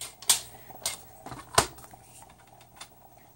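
Card stock being trimmed on a paper trimmer, a few sharp isolated cutting clicks and slides with quiet gaps between them, close by and moderately loud.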